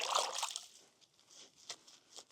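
River water trickles and drips during the bathing of two dogs in a woodland river, a soft close splashing with scattered brighter drips, fading to quieter trickles.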